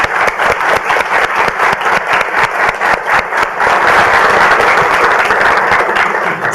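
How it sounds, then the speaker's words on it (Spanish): Audience applause at a Spanish-language book launch event, a steady dense burst of many hands clapping close by that swells slightly toward the end, with no talk over it. "Y eso requiere otro aplauso."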